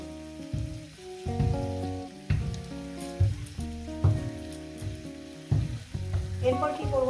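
Oil heating in a pan for pumpkin bharta gives a steady sizzle under strong tonal background music, with brief stirring clatter and no talking.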